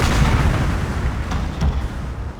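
Heavy rolling volleys of musket and cannon fire as troops fire on militia during a Napoleon: Total War battle, loud booming reports layered into a continuous rumble with a few sharper cracks.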